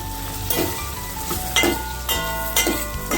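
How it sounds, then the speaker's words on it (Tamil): Tomatoes sautéing in a pan for a dried-fish curry, with a steady close sizzle and a utensil stirring and scraping in a few louder strokes at intervals. "தக்காளி நல்லா வதக்கிக்கிறோம்."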